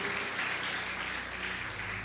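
A church congregation claps together in dense, steady applause that holds at an even level throughout the short stretch.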